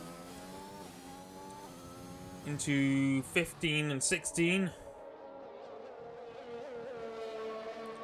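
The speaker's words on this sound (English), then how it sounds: "Sounding a bit slow, not a lot of revs in the engine." F1 2021 race car engine at the Russian Grand Prix circuit, a steady buzzing drone under a commentator's voice, with a louder, nearer engine roar briefly cutting in and out midway before fading back to the distant hum.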